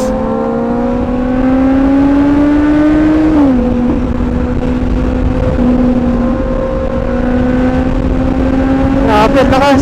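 A Kawasaki Z900 motorcycle engine revs hard and close, its pitch climbing steadily, dropping briefly at a gear change, then rising again, with a short burst of rattling at the end.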